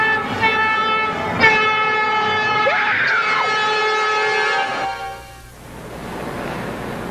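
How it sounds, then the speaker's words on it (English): Metro Blue Line train approaching, its horn blaring in a long harmonic blast layered with rumbling rail noise, then fading into a hiss as the train passes close by. "the train's coming."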